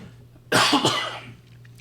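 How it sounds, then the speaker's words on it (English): A single loud, close cough bursts out, followed by a brief rasp, against a quiet low hum. "let me cough real quick"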